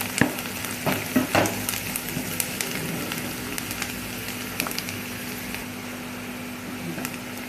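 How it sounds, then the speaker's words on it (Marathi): Chopped onion frying in oil for a bombil batata rassa, a steady close sizzle with a few sharp stirring clicks early on. "कांदा तेलामध्ये चांगलं फ्राय करून घेतला आहे"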